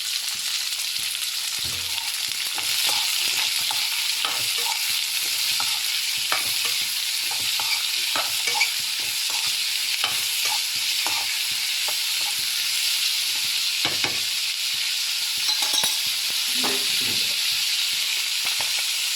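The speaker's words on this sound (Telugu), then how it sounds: "సాల్ట్ వేసుకొని ఫ్రై చేసుకోవాలి." Chopped onions frying with salt in a pan, a steady close sizzle with scraping stir strokes and clinks throughout.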